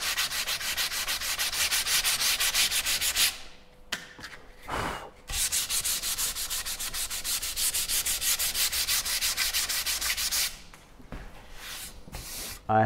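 A wooden paddle is hand sanded with 150 grit sandpaper, long rhythmic scratchy rubbing strokes close up, broken by brief pauses and quick shorter strokes near the end.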